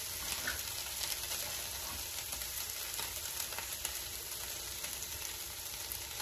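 Chiles hit tender chicken fajita meat in a hot pan, giving a continuous dense sizzle and crackle with small pops, close and steady throughout.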